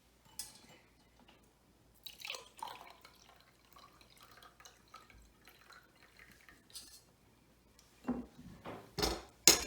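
An immunity booster tonic being strained: faint, scattered drips of liquid and light clinks of a utensil against a container, quiet and close.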